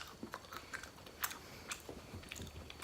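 Soft, faint crunching and chewing as someone bites into a Hershey's Gold bar with peanuts and pretzels, with irregular small crisp clicks close to the mic.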